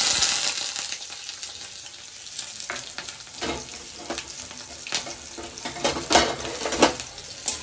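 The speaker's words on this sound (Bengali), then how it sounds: "এবার দিয়ে দেবো পেঁয়াজ কুচি।" Chopped onions tipped into hot oil with a little sugar for a chicken curry, hissing into a loud, steady sizzle with scraping stirs and clinks of a spoon against the pan.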